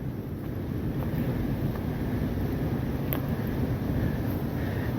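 Return Creek rushing through rocks in Yosemite, a steady low roar heavily buffeted by wind on the microphone, constant and fairly close with no talking.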